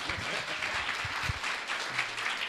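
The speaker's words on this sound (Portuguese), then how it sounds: "Dá uma salva de palmas para ele ficar tímido." Steady applause from a church congregation welcoming a guest speaker, continuous and moderately loud, with faint voices underneath.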